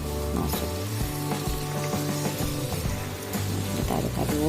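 Chicken pieces hit hot oil in a pan for Indonesian opor ayam, giving a loud, continuous sizzle with crackling pops and a few clanks as pieces drop in one by one, with no talk.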